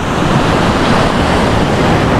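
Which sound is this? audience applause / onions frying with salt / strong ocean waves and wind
strong ocean waves and wind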